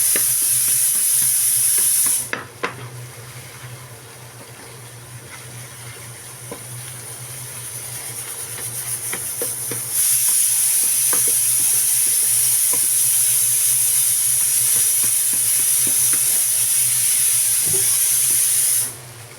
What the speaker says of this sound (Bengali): দেখেন বন্ধুরা, আমাদের অনেক ভালোভাবে ভাজা হয়ে যাচ্ছে